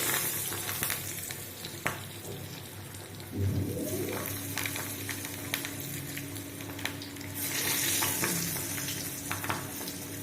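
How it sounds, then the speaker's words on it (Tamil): Paruppu vadai, Tamil lentil fritters, drop into hot oil and fry with a continuous bubbling sizzle, a low thump as one goes in, and scattered utensil taps, close and without talk. "எண்ணெய் காஞ்சிடுச்சு. இப்போ வடையை போட்டுக்கலாம்."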